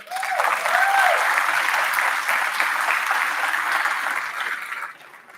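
Applause and cheering from an audience at a school athletics parent meeting, a dense sustained burst of clapping that fills the room for about five seconds, then fades out.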